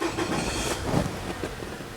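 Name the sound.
Nissan Serena C24 car engine starting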